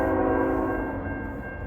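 CN freight train M344, led by locomotive 3113, rolls past at Ladysmith with a loud, sustained drone and a steady ringing tone over heavy low rumble.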